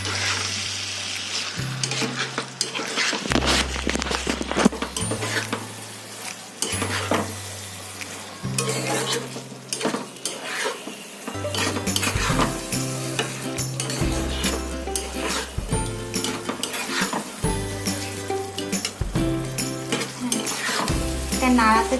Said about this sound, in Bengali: এটা নাড়াতে থাকতে হবে।